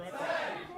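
Crowd at a live women's wrestling event roaring and cheering during a hold in the ring, a sustained loud swell of voices over the short moment.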